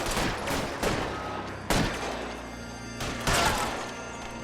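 Gunfire in the video game L.A. Noire, a dense, loud barrage of shots with sharper bursts punching through the sustained clatter.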